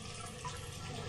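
Cold water runs from a tap in a steady, soft rushing stream, faint and continuous with no other sounds.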